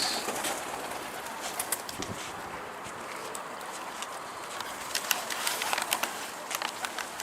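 Homing pigeons, among them one that escaped with a taped wing, flutter and call in a steady outdoor din of birds, with wingbeats and short coos popping up throughout at close to middle distance.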